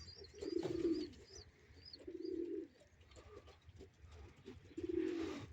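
Racing pigeons in a loft give soft, low repeated coos in three rounded phrases, with a few faint chirps in between. The sound is close but quiet, with no talking.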